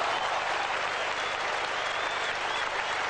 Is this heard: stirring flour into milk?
no